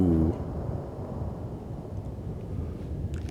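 A thunderstorm in the video game Pokemon Legends Arceus opens with a short burst of thunder, then a low, steady rumble of storm and wind continues underneath.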